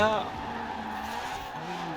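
Ferrari racing in a Forza video game, its engine droning with a brief tire squeal at the start, then a steady rising and falling engine note that carries on throughout.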